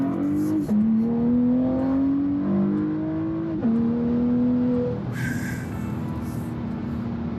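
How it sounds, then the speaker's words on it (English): A 2023 Porsche Panamera 4S E-Hybrid accelerates hard, its exhaust note climbing steadily through two gear shifts with a brief dip between them, loud and sustained with no talking. "Hope you can hear the exhaust."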